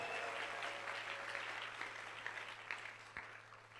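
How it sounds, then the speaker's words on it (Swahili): A church congregation applauds together in a dense, steady burst of clapping that gradually thins out, with faint background hum. "Patia Yesu makofi tena mazuri kwa ajili ya jambo hili"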